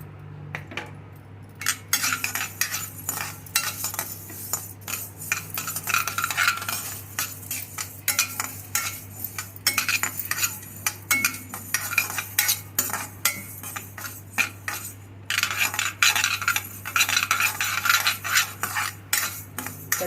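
Washed mustard seeds roasting in a pan for a summer tomato pickle, close busy crackling and popping mixed with frequent metal spoon scrapes and stirring clatter, continuous and moderately loud.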